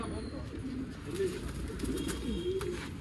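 Pigeons cooing in a loft of old-line breeding birds, with soft repeated throaty coos rising and falling near the listener over a steady background hum.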